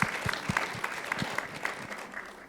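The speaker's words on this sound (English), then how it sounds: "I think that deserves an applause." Audience clapping at a Sunday church-style gathering, a brief scattered round of claps at moderate distance that stays fairly light and sparse.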